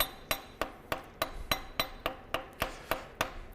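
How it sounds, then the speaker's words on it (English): A steel workpiece is tapped down onto parallels in a manual milling machine vise: about a dozen sharp metallic taps in a steady, even rhythm, close and clear with no talking. "you want to tap it down kind of while you're tightening on the vise"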